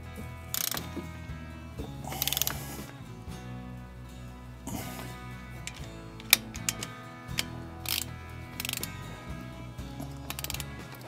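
A ratchet tightens the brake caliper bolts on a Chevy Colorado ZR2, clicking in quick repeated runs of pawl ticks with small metallic knocks, close and fairly quiet, with no talking.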